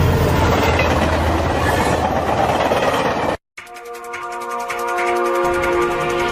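A train runs on rails in an anime, a loud, dense rumble and rattle that cuts to brief silence, then returns as a steadier rhythmic clatter of wheels with a ringing metallic hum.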